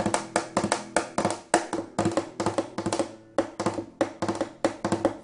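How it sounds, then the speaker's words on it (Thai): Rapid percussive taps and strikes on the soundboard of a cutaway flamenco guitar, a dense rhythmic pattern of sharp hits with ringing strings, close and clear with no talking. "สามารถเคาะลงไปบนซาวบอร์ดได้โดยที่ไม่ต้องกลัวว่าไม้น่าจะเป็นริ้วรอยอะไรนะครับ"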